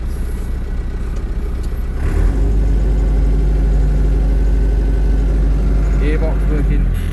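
A Massey Ferguson 390 tractor with a shuttle gearbox pulls away. Its loud, steady low diesel drone swells slightly at about two seconds and holds strong to the end, with a voice faintly present over it.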